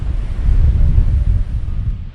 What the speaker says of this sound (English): The wind puts me a little out of balance.